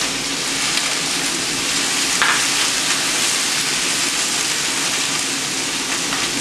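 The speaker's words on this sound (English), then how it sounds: "it doesn't take a lot of time to fry the vegetables" Onion and mushrooms sizzle steadily in a hot pan, a dense, even hiss of frying that holds at a moderate level throughout with no talk over it.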